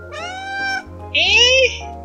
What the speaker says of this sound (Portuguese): Ih, eu peguei o gatinho.